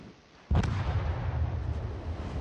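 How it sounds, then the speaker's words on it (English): A battleship's main guns fire a salvo in a naval video game, one sharp booming blast followed by a long rumbling low roar that lingers loudly to the end. "I can just lob the shells over the edge of that island there"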